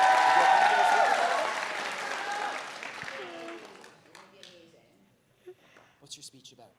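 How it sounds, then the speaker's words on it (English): A crowd applauds a student speaker at a public speaking contest, the clapping loud at first and then tapering away, with scattered talk emerging as it fades. "Give Margot a big round of applause as she's getting ready."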